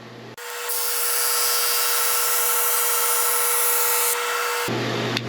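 A Flatmaster drum sander works resawn pallet wood at 80 grit, giving a loud, steady abrasive whir and rubbing that runs for several seconds after a short start and then cuts off.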